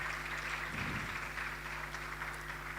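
A room full of people claps continuously for an arriving speaker at a Girls in ICT gathering, the dense applause staying level and unbroken over a faint electrical hum.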